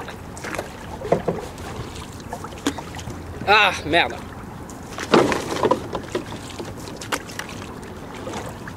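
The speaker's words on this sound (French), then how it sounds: "tu pagaies pas assez fort, on va trop de mon côté là" Canoe paddles splash and dip in the water in irregular strokes while people talk nearby, with light wind noise.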